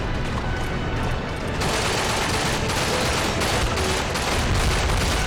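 Shotgun fire and battle noise in Call of Duty: Big Red One, with a dense, loud, continuous wash of rapid gunfire and blasts and almost no talking.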